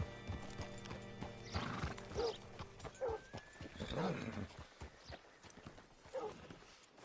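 Horse hooves clip-clopping with a whinny in the video game Red Dead Redemption 2, several hoof beats and snorts near and moderately loud, with a neigh around the middle over a quiet ambient background.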